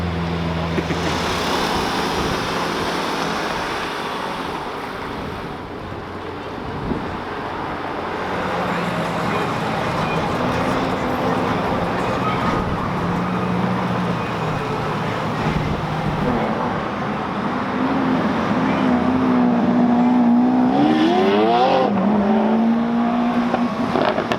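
At a Cars & Coffee meet in London, a loud Lamborghini Aventador and other hypercars pull away. Heavy engine roar and revving build and swell, with a rising gear-change whine near the end and voices nearby.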